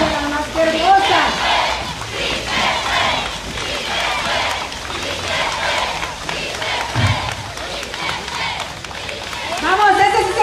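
A crowd cheers and claps loudly in a large space at the launch of a Red Cross fundraising drive in Mazatlán, shouts and applause rising and falling together, with voices calling out over the noise.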